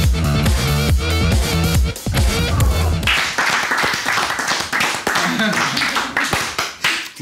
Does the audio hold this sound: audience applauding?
yes